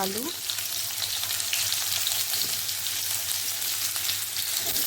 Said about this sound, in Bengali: এরপর আমি আলুগুলো ভালো করে ভেজে নেব